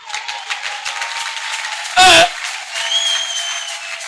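A church congregation applauding during a sermon gives a steady, dense wash of clapping that carries on throughout, with a brief loud burst midway and faint tonal sounds rising above it.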